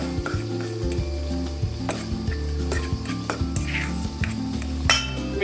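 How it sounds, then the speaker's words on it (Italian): Parmesan and robiola are stirred vigorously into a zucchini filling in a sizzling pan, with repeated clinks and scrapes of a utensil against the pan over a constant frying hiss. "Adesso cominciamo a mescolare selvaggiamente."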